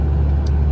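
A pickup truck cruises steadily on the road, its engine giving a loud, even low rumble with road noise and no voices.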